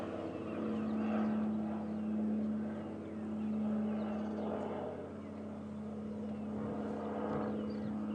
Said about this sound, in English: Little twin engine plane going from one side of the world to another.